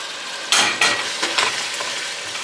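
Onion, tomato, garlic and a homemade spice mix being stirred in a hot pan for birria, with scraping strokes over a steady sizzle, close and alone.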